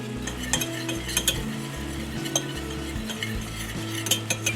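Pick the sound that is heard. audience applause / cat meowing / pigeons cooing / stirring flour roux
stirring flour roux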